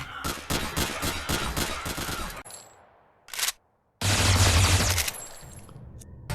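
Rapid bursts of automatic gunfire from the zombie shooter VR game Zombie World VR, loud and close, rattling in dense volleys with a brief lull and a short break before the shooting resumes.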